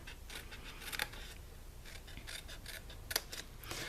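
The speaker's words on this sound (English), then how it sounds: "make a tiny little angled cut that cuts out the score line" Scissors make a few short, crisp snips as they cut small angled notches along the score line of a cardstock paper square, the cuts coming in quick separate bursts at close range with no talking.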